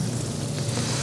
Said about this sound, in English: I hear sizzling.